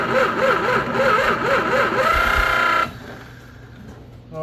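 An old 1934 Chevy four-door sport sedan, unrun for 23 years, cranks over and over with a rhythmic, labored starter churn, close and loud, before cutting off into near silence.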